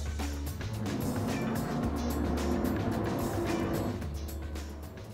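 A small car's engine in the Gran Turismo 7 racing game drones and rises in pitch, with a steady mid-loud note and brief gear-change dips.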